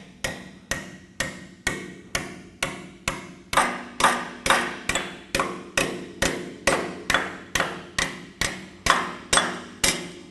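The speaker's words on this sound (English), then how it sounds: "we'll just take our hammer and just slowly start working it down" Steady hammer blows on sheet metal over a hammer form, about two per second, ringing and evenly paced, close up with no talking.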